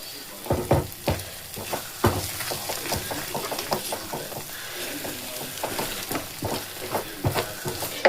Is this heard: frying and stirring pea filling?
yes